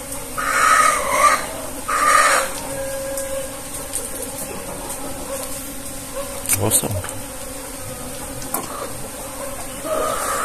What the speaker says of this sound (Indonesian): Indukannya masih berterbangan lebah-lebah nih.